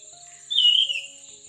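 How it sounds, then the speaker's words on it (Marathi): A single high, thin bird call from birds in treetops rises briefly over a quiet, still background, with faint tonal chirps from farther away. "पक्ष्यांचा आवाज बघा वरती आहे झाडावरती छान आवाज येतात"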